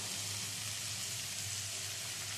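Elephant foot yam stalks fry in a pan with a soft, even, continuous sizzle and a low hum beneath, heard alone without talk.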